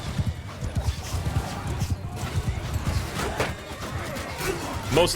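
Horses thunder through a battle in Mount and Blade Bannerlord with irregular hoof clatter, clashing and crashing, and occasional whinnies in a busy, continuous mix.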